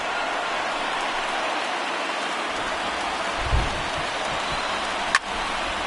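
Steady heavy rain falling on a ballpark in the baseball video game MLB The Show 19, a constant close hiss with a soft low thump midway and a brief sharp tick near the end.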